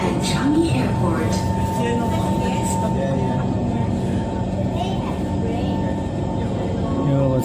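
A Singapore metro train runs toward Expo and Changi Airport, a steady rumbling hum with a sustained tonal whine, as people talk over it.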